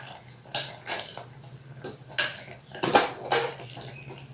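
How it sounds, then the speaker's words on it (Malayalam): A spoon scrapes and knocks against a pot while colocasia stem curry is stirred, the sharp metallic clinks coming in irregular bursts over a quiet low hum, with no talking. "നന്നായിട്ട് ഇളക്കി കൊടുക്കുക."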